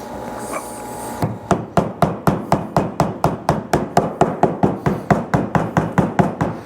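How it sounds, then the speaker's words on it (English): A hammer taps steadily in an even rhythm, around twenty sharp knocks in a row, close and loud after a brief quieter lead-in. "With a hammer, just go ahead and tap it on."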